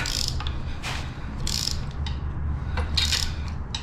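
A hand ratchet wrench tightens a bolt while Eibach Pro-Lift springs are fitted on a Toyota RAV4, giving bursts of rapid clicking in several uneven strokes over a low steady background rumble, close up, with no voices.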